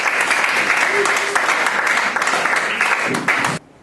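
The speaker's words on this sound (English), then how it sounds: "I think they deserve a round of applause because they all look good." A school debate audience breaks into loud, dense applause that fills the room for about three and a half seconds, with a few voices mixed in, before cutting off abruptly.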